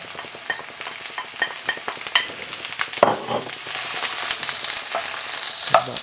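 Ginger and onions sizzle steadily in a hot pan for a beef and spring onion stir-fry, with scraping stirs and utensil clicks throughout; the frying grows louder and fuller partway through.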